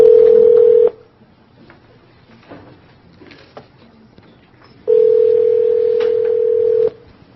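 Steady dial tone from a speakerphone being used to call a remote participant into a board meeting, a long tone, then a pause with faint key presses and room noise, then the tone returns loud and even for about two seconds.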